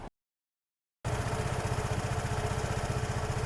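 A Vespa scooter resting on its center stand starts after a second of silence and then idles steadily, with an even, throbbing putter close by.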